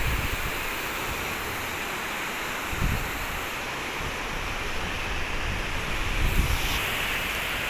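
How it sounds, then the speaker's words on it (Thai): Strong evening sea waves at a beach make a constant, loud wash of surf, with a few deeper surges rolling in over the steady hiss. "คลื่นมันแรงนะครับน้ำช่วงตอนเย็นๆนะคลื่นมันแรงครับ"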